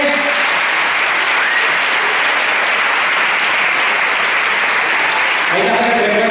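Concert audience applauding steadily and loudly after a band performs, dense clapping throughout with a voice at the very end.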